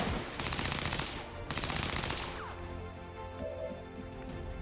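An auto pistol fires in XCOM 2 as two dense, rapid bursts of loud shots, each about a second long, followed by a rattling metallic tail and fading echoes.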